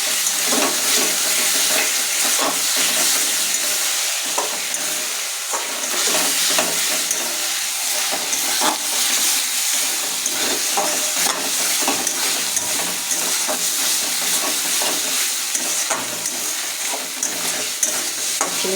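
Vegetables with onion and garlic frying in a pan, a dense continuous sizzle under repeated scraping and stirring strokes, close and fairly loud throughout, with no one speaking.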